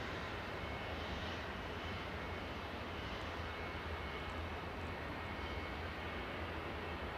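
Jet airliner departing Manchester Airport for Palma de Mallorca, a steady, loud, broad engine roar that holds evenly throughout with no voices.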